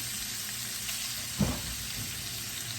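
A pat of butter drops into a pan of hot sausage grease with a short thump, then a steady soft sizzle and frying hiss continues.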